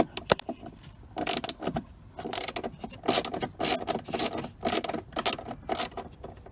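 Ratcheting clicks and metallic clinks come in repeated bursts as a 10mm socket backs bolts out of a 2012 Mazda 5, close up and moderately loud with short pauses between turns.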